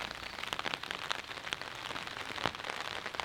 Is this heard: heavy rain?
yes